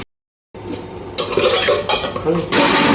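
After a brief silence, a raw banana curry is stir-fried in a pan, with clattering spoon-on-pan scrapes and clinks over a low sizzle, close and fairly loud.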